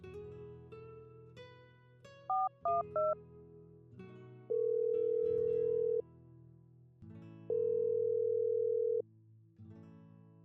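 A quick run of dialing beeps, then two long, steady ringing tones separated by a pause, with music playing quietly underneath.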